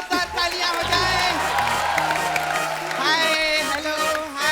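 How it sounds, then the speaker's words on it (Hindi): A studio audience claps and cheers for a women's cricket team, loud mixed applause with whoops and shouts, heard under and between people talking and music-like tones. "विमेन क्रिकेट टीम के लिए एक बार जोरदार तालियां हो जाए।"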